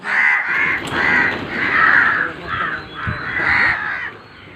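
A crow caws repeatedly in a steady series of loud, close, harsh calls, roughly seven or eight in a row, with faint background noise between them.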